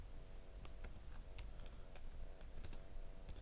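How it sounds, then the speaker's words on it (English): Keys clatter in irregular bursts on a computer keyboard while someone edits HTML in PyCharm, the sharp clicks steady and close with no talking. "just press Ctrl R, so it's for replace, and type the name O2, Taufik O2,"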